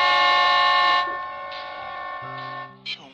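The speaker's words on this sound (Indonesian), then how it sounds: "tanpa disengaja ia menekan klakson mobil" A loud, sustained car horn blares for about a second, then a quieter horn tone lingers and fades, with a short final toot near the end.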